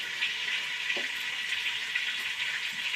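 Fenugreek seeds fry in melted mutton fat for a Pudukkottai-style thali curry aanam, giving a steady, close hiss and crackle of sizzling oil with a soft clink near the middle and no voices.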